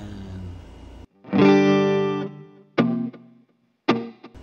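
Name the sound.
Cubebaby multi-effects unit sound preset playing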